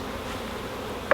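A steady, soft buzz of honeybees around a hive hums throughout, with one brief louder buzz as a bee passes close near the end.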